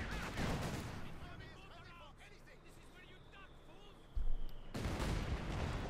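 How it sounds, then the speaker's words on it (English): Mortar rounds and a mine blast in a Company of Heroes 2 battle: a dense rumble of gunfire and distant booms, then a sudden loud explosion hits past the four-second mark and the battle noise stays heavy afterward. "mortar firing down as well, mine going off"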